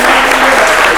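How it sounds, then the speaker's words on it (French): Dense, loud applause from the audience at a high school quiz final in Grand-Bassam, steady and continuous throughout the brief moment. "On peut l'applaudir."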